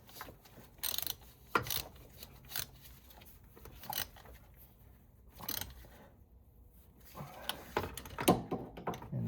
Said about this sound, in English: We're just gonna tighten everything with the socket first.